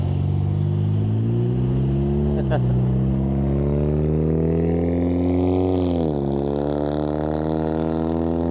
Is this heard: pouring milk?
no